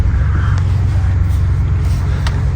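Steady road and engine rumble from a 2020 Ford Expedition Platinum SUV on a test drive, heard from inside the cabin, continuous and fairly loud with no talking.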